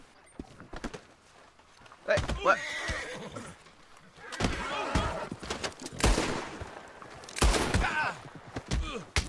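Red Dead Online game horse whinnies and hoof clatter mixed with sharp impact bursts, while someone speaks briefly over the commotion.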